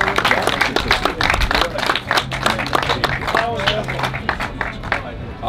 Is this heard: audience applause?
yes